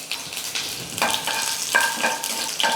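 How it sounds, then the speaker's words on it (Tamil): Mustard seeds, urad dal and crushed garlic sizzle and crackle in hot oil in a pan, with sharp pops scattered over a steady frying hiss and a spoon stirring now and then. "எண்ணெய் நல்லா காஞ்சிடுச்சு. கடுகு சேர்த்துக்கிறேன்."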